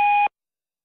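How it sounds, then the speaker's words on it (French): A single short electronic voicemail beep, a steady two-tone note lasting about a third of a second, then silence. "Laissez votre message après le bip sonore."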